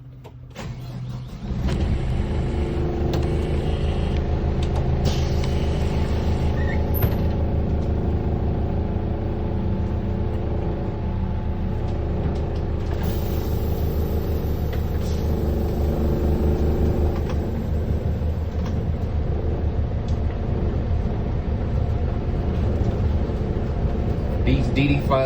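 A 2025 Thomas C2 school bus with a DD5 diesel engine drives along in a steady low rumble, a continuous cabin drone with faint rattles and someone talking over it.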